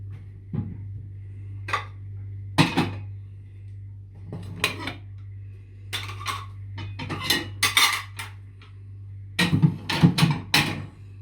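Dishes and cutlery being put away in a home kitchen, irregular bursts of clinking and clattering plates, pots and spoons up close, over a steady low hum, with no talking.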